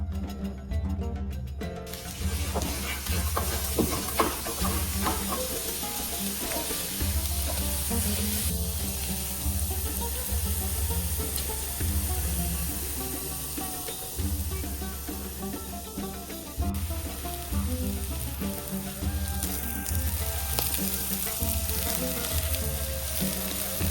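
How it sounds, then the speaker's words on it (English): Onions and diced red peppers fry over raised heat in a pan for a Turkish-style pork hash, a steady loud sizzle running throughout with occasional stirring scrapes and no talking. "add in the diced red peppers and increase the heat to let everything"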